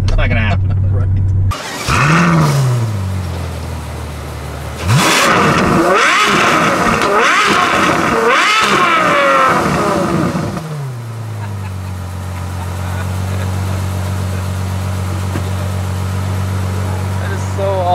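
A Ferrari F12 supercar engine idles low, then is revved repeatedly in loud rising and falling bursts before settling back to a steady idle, close by, with people talking at points.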